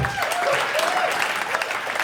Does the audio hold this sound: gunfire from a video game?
no